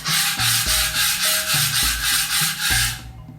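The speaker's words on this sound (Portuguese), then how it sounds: "é entrar com uma espátula raspando o que tiver de superfície solta" A spatula scrapes loose surface material off a wall being prepared for painting, giving loud, close, rhythmic rasping strokes, about a dozen in quick succession, ending abruptly, with no talking.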